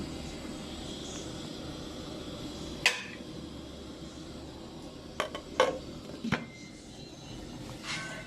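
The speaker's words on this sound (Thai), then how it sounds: "เดี๋ยวต้องปิดฝาหม้อ" A few sharp metallic clanks as a lid goes onto a cooking pot, first a single knock then a cluster of clatters, over a low steady background rumble.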